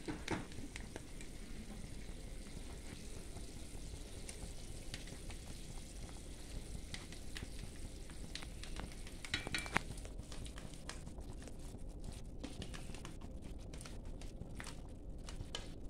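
A pot of Kathiyavadi dhokari curry bubbles steadily on the stove, giving a continuous close simmering and sizzling hiss with faint clinks, and no one speaks over it.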